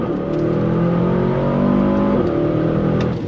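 A 2023 Aston Martin DBX 707 SUV engine pulls hard under throttle, a steady loud roar with rising harmonic tones and a brief shift midway, close and continuous.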